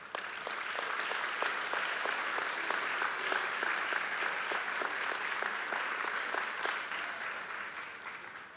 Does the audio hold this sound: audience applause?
yes